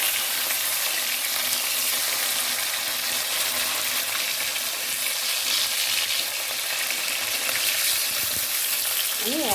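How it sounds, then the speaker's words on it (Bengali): Pieces of catla fish frying in hot oil in a home kitchen, a dense, constant close sizzle that stays loud and even throughout, with a brief faint voice near the end. "আর দেখতেই পেলে মাছগুলো সব ভাজা হয়ে গেছে।"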